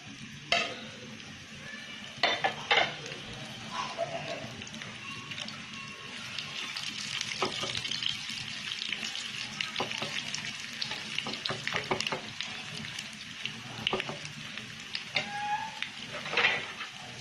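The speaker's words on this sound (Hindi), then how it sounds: "फिर ये ड्राई मसाले डालूंगी अपने, फ्राई करूंगी।" Dry spices frying in a little oil in a pan for chicken masala, a steady soft sizzle with occasional scraping stir strokes throughout, fairly quiet and close, with no talking.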